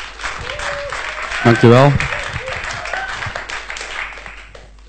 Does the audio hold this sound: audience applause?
yes